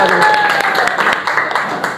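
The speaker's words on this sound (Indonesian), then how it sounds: "Semangat ya, tepuk tangan." A classroom group claps in a quick, uneven rhythm during a lively lesson warm-up, close and fairly loud, with voices chanting over the claps.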